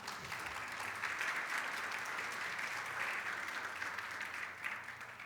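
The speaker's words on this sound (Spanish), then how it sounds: "Un aplauso ahí, Ángel David." A church congregation applauds for Ángel David, who is about to be baptized at a Sunday service; steady, sustained clapping from a sizable group fills the whole stretch at moderate distance, with no voices over it.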